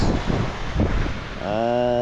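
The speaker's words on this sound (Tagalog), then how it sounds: "mahangin na amihan, alon" Steady wind from the northeast monsoon buffeting the microphone with a rushing, wave-like wash of sea water underneath, broadband and continuous, with a tonal engine-like hum rising near the end.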